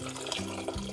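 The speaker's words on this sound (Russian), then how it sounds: "Перемешаю и залью горячей водой." Hot water pouring into a soup pot, a soft, steady splashing trickle of liquid, faint and close, lasting about a second.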